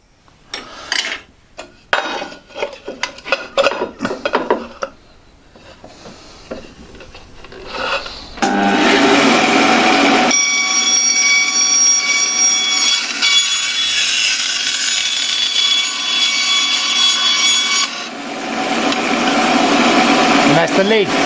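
A metal tin having its top cut off, first a run of uneven scraping and rasping strokes, then a long, loud, steady grinding cut that goes on for over ten seconds.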